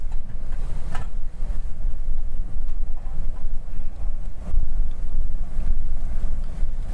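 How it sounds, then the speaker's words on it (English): Tropical storm force wind gusts from Hurricane Nicholas batter the microphone outdoors in Matagorda, Texas, a continuous loud rumbling roar that swells and surges in repeated gusts with no one speaking. "We're still getting some decent gusts here. That's a tropical storm force gust."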